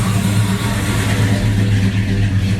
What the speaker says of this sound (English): we've got someone revving out there